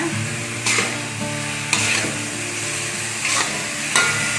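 Mushrooms go into a pan of stir-frying mixed vegetables, loud and close: a continuous oily sizzle punctuated every second or so by a sharp scrape and clatter of the spatula tossing the mix.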